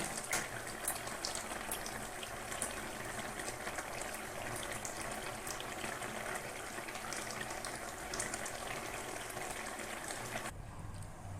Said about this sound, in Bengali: মাছের ঝোলটা এবার ঢেলে নেব